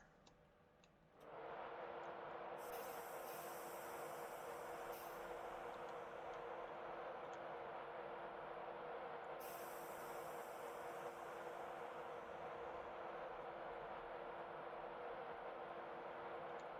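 A passenger train with a driving van trailer runs at speed, a loud steady rumble with a constant hum, brief hissing bursts and occasional ticks from the rails, no voices.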